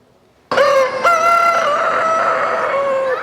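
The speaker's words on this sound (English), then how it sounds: "a story we found about a rooster crowing contest" A rooster in a poultry barn crowing contest lets out one loud, sustained crow lasting nearly three seconds, close and alone.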